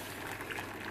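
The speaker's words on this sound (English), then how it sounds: "I've just boiled a full pot of water" A full pot of freshly boiled water, poured into a cooking pot on a hot stove for rice, gives a steady, continuous bubbling splash that stays close and even for about a second, with no talking.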